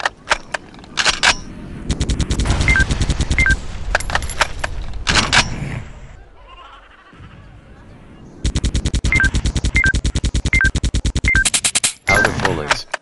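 Rapid bursts of machine-gun fire in a mobile shooting video game, loud long strings of shots broken by a quiet gap, with a game voice speaking over the action.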